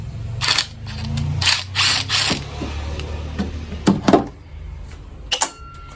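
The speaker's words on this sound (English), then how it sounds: "And we just take all these screws out." A socket wrench ratchets screws out of a Buick ignition control module on a 2004 Buick LeSabre, giving close, sharp bursts of clicking in short irregular runs, with a low mechanical hum underneath.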